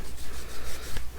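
Acetate sheet being trimmed up to a line in a craft collage project, heard as close, steady, rhythmic scraping strokes repeating several times with no voices.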